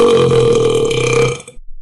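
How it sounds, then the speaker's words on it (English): A single long, loud, rumbling burp in a classroom setting, sustained for over a second before cutting off abruptly into silence. "I burped in class."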